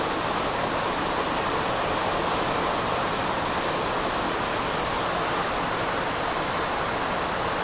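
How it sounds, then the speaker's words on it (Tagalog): Heavy rain from an approaching typhoon pours down in front of the barangay hall in Lonoy, a dense, steady, unbroken hiss that stays loud and even throughout with no voices. "Padayon niya po na ang makusog na ulan."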